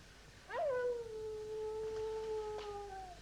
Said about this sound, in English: the howls of the wolves are definitely soothing sounds from the underground